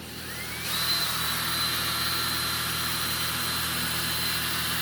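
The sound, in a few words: drill twisting thread into cord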